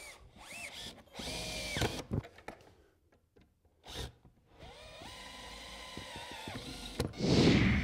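A power drill drives inch-and-a-half screws through thick wood while a wall cabinet is assembled in a woodshop, with several short whirring bursts and gaps between them, close and fairly loud.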